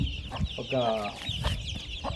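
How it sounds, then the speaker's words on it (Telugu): Hens cluck with a stretch of higher peeping from chicks, Asil bantam birds kept indoors, close and moderately loud in short repeated calls. "ఇంకొక కోడి ఉంది, దానికి 17 పిల్లలు ఉన్నాయి"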